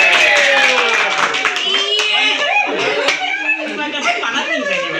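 Judges clapping at a fashion show shoot, a burst of hand claps mixed with laughter and chatter, close and lively throughout.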